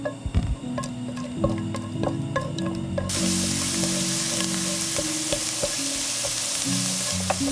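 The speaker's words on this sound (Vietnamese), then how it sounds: "Cho vào chảo một muỗng canh dầu và mình cho tỏi băm vào phi thơm." Minced garlic sizzles in a spoonful of hot oil in a pan, starting with light clinks and stirring, then settling into a steady loud crackling fry.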